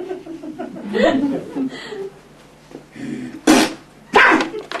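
A dog growls and snaps over its food bowl in a few rough, loud bursts, with a voice and chuckling mixed in between.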